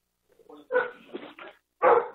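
A single dog gives a few short yips and barks during a county board meeting, faint and brief, with quiet gaps between the sounds.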